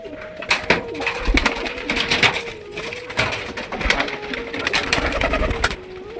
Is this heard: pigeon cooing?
yes